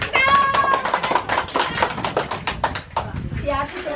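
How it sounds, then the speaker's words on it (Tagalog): Hands clap quickly and loosely in a small group at a Christmas gathering with an indigenous community, a close, uneven patter of claps. Voices chatter over the clapping. "Wow, palakpak daw!"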